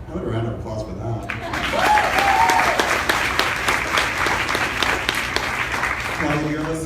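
A live panel audience at a fan festival breaks into a loud round of applause, the clapping rising over a speaker's closing words and continuing steadily before another voice begins talking.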